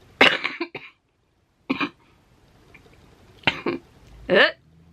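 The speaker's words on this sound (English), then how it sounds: "I'm gonna cough soon, so I'm talking fast." Several short, sharp coughs from a single person nearby, spaced out with quiet gaps between the bursts.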